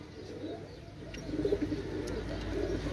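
Pigeons coo softly and steadily from a loft pen holding a Pakistani breeding pair, male and female, the low throaty calls rolling on continuously through the whole stretch with no talk over them.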